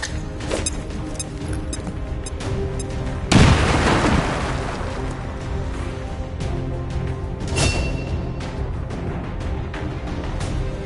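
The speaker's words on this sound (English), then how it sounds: "Grenade lancée." A grenade detonates in XCOM 2 with a single loud, sharp blast that rings out and decays over about a second, over a steady bed of game music and ambience.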